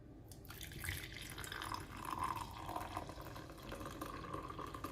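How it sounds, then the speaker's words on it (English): Juice poured into a pot while preparing a home remedy meant to boost the immune system, a steady close liquid splash and trickle with dripping, running without a break and with no talk over it. "Now the next thing I'm going to be doing is to pour in some of the juice inside here."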